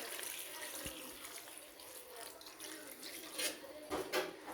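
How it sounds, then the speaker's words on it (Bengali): Water poured into a pot of cooking beef and potato curry with garlic pieces, a soft continuous splashing flow close by, slightly louder toward the end, with no talking. "এখন আমি পরিমাণ মতো জল দিয়ে নিব"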